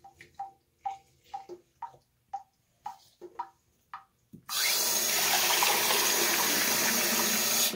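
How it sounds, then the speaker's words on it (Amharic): One cup of water is poured into half a kilo of flour for Ethiopian kinito. A run of soft rhythmic taps comes first, then a loud, steady close pouring rush fills the second half. "አሁን በዚህ በኩባያ አንድ ውሃ ጨምርበታለሁ።"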